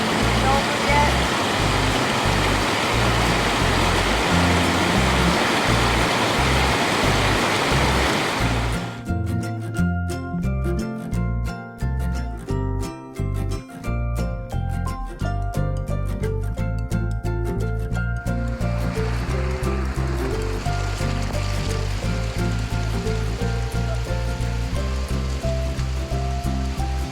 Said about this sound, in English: So we're at the top of the waterfall now